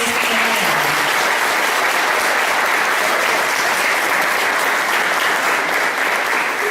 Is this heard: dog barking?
no